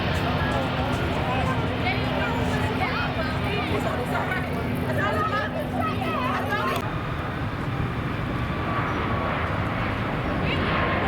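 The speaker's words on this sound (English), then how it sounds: "a departure of a Pegasus Airbus A321neo on its way back to" A Pegasus Airbus A321neo departs on the far side of an airfield, a broad steady jet roar that stays loud throughout, with a thin tone and chatter from nearby people over it before a slight drop in texture.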